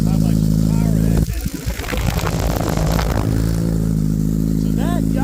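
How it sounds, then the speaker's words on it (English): A Honda Grom motorcycle fitted with a Yoshimura exhaust drones at a steady idle, then breaks into a choppy, clattering burst of revving before settling back into a loud, even hum. A voice speaks briefly near the end. "So that Yoshimura exhaust right there."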